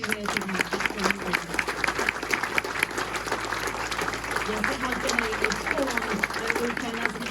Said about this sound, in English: I just want to say give the volunteers a big round of applause.